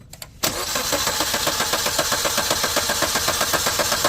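A Maruti Suzuki Baleno with a pickup problem, acceleration drop and fault code P0420 is cranked on the starter, then catches and settles into a steady, close, slightly knocking idle.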